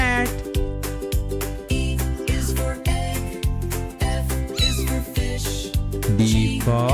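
A cat meow sounds over a bouncy, rhythmic music track with a steady beat.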